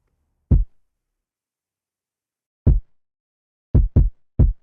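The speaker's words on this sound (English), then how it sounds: "it's a little bit of like a boxy kind of kick" Five short, punchy kick drum hits with a boxy, low thud, spaced irregularly with silence between them and no other sound.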